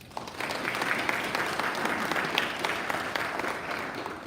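A room of Rotary Club members applauding to welcome a guest, steady dense clapping that holds evenly for several seconds at moderate distance.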